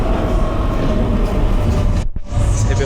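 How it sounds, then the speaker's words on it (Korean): The last metro train of the night pulls into a station in Rome, a loud, steady rumble of wheels and motor filling the platform, with a brief sharp dip and hiss near the end as it slows. "로마의 막차가 지금 입장하고 있습니다."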